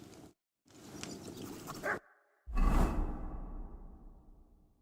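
In Kingdom Come: Deliverance II, a dog gives a short whimpering bark amid swishing movement, followed by a low rumbling thud that fades out. The sounds are close and moderately quiet.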